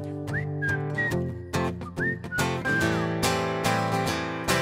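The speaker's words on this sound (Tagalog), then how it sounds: "Pasipol-sipol na lang." Melodic whistling in a song cover, with sliding whistled phrases over steady guitar and band accompaniment.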